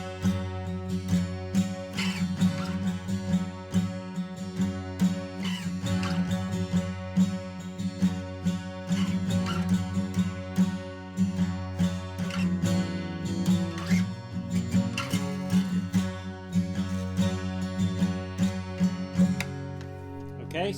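A guitar plays the second bridge of a song, with steady picked and strummed notes and ringing open strings, moderately loud and alone.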